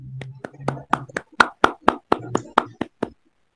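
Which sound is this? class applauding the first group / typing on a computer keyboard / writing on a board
class applauding the first group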